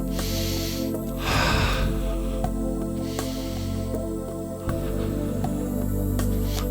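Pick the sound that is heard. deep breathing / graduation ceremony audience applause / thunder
deep breathing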